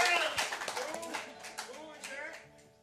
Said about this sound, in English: Would you please give a big, warm round of applause?